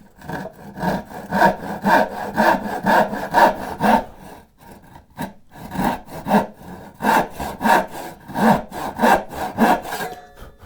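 Hand saw cutting across the grain of wood while building a box, with a loud rhythmic back-and-forth rasp of steady strokes, one short pause partway through, and no talking.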